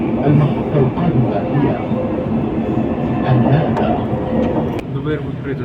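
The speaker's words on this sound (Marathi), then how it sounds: "तर आपलं मेट्रो स्टेशन आलेलं आहे" A Dubai metro train pulls into a station with a steady rumbling roll and faint rail clatter. Someone talks over the train throughout, and the noise eases slightly near the end.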